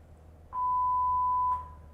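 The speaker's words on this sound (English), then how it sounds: "you're going to hold until you hear the long beep" One long, steady electronic beep from a putter measurement system, a pure tone lasting about a second over faint room hum, with no talk.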